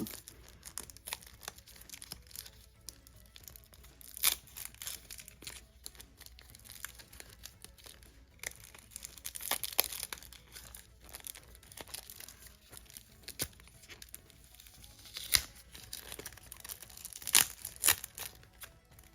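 Plastic packaging around nail products is torn and crinkled open in a string of irregular rips and crackles, close and fairly quiet, with no talking.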